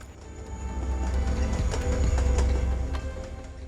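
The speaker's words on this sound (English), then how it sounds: "they have a live feed of their train crossing. This is our train" Rocky Mountaineer passenger train crossing at Revelstoke, British Columbia, a steady low rumble with rail clatter and squeal rising mid-clip, heard at moderate distance without voices.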